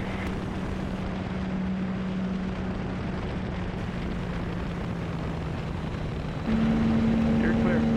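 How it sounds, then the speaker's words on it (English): A light sport propeller aircraft in flight, its steady engine drone heard from inside the cabin, with a constant tonal hum that rises in pitch near the end. "these types of aircraft, like light sport pilot license type of aircrafts"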